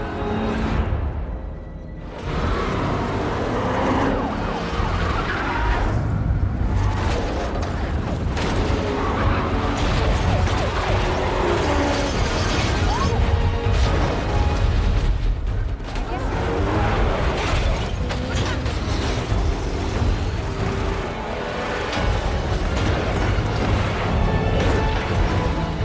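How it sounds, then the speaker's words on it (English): Movie high-speed car chase with police cars crashing: dense, loud action sound of roaring engines, impacts, bursts and whooshes, with scattered voices talking over the din. "A high-speed chase follows, ending with multiple police cars crashing as Frank pushes his driving skills to the li"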